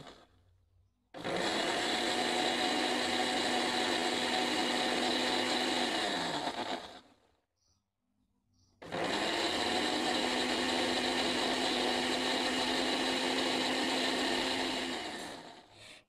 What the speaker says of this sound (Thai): เดี๋ยวก็นำไปปั่นให้ละเอียดเลย